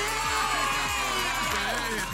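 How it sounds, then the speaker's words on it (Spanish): A television studio audience on a film program cheers and whoops for guests, a steady close roar of crowd noise with shouts over it. "Un aplauso a los nuestros invitados"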